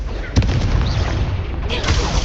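Confringo fire-blast spell explosions in the Hogwarts Legacy video game, loud deep booms with a sharp burst near the start and another swell later, over a continuous rumbling game soundscape.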